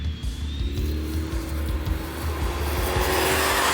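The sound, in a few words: supercharged Dodge Charger engine on dyno and track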